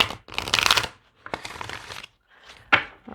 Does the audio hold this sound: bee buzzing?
no